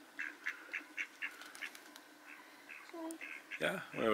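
Ducks quack in a quick repeated series, close by and fairly loud, before a person begins speaking near the end.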